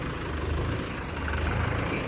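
A tractor hitched to a trailer loaded with firewood idles with a low, even engine throb that rises and falls slightly, fairly quiet and without voices.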